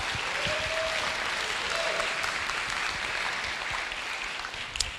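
Audience at an accelerator demo day clapping, a steady wash of applause from a sizeable crowd in a hall, fairly quiet and continuous.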